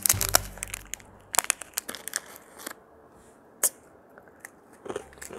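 Crispy fried onions from a koshari order are crunched between the teeth in close, sharp bursts, a flurry at first, then scattered single crunches amid quiet chewing.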